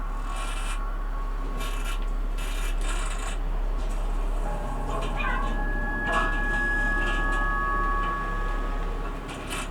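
Short meows from a small cat in the video game Stray sound a few times over a soft background hum, mixed with light rubbing and clicking noises.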